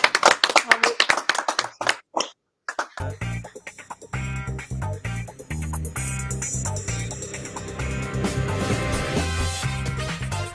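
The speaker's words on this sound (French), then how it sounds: "merci Maris, on peut l'applaudir" Brief burst of hand clapping at the start, then a short gap before loud music with a steady beat takes over.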